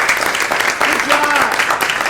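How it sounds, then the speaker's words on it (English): An audience at a school Board of Education meeting claps in a dense patter of applause, with voices carrying over the clapping. "How about a round of applause?"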